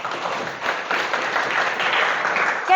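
An audience of students claps together in a classroom setting, a steady, dense patter of applause that holds evenly for a few seconds without any speech.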